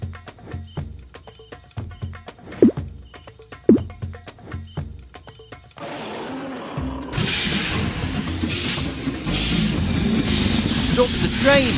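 Rhythmic clicking and clacking of train wheels in a kids' train racing video game, then a sudden shift to a louder continuous rumble with high squealing, steady and close.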